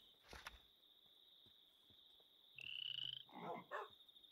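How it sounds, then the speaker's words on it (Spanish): Frogs croak in a video game: a steady high tone runs throughout, with a few quiet, rough croaks bunched near the end. "Pero estos son ranas muy raras"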